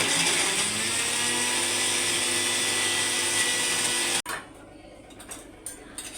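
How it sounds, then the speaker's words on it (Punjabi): A kitchen mixer grinder whirs loudly and steadily while grinding green chillies and ginger for a gravy, then cuts off abruptly, leaving a few quieter kitchen sounds. "ਹਰੀਆਂ ਮਿਰਚਾਂ ਪਾ ਲਈ ਕਿੱਚੀ ਪਾ ਲਿਆ ਆਪਾਂ ਅਦਰਕ ਤੇ ਹੁਣ ਆਪਾਂ ਇਹਨੂੰ ਗ੍ਰਾਈਂਡ ਕਰਨਾ"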